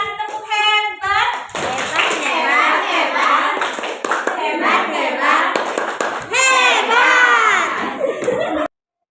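A class of children performs the rhythmic "tepuk hebat" clapping cheer, brisk, close and loud, mixed with chanting voices, ending with a burst of shouting before falling silent.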